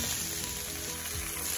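Shrimp and okra sizzle steadily in a pot, a dense continuous frying hiss with a low background hum, close and fairly loud with no talking.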